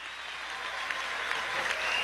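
Sustained applause from an audience at a Venezuelan youth political rally after a salsa band's performance, a steady, dense wash of clapping holding at an even level for the whole stretch.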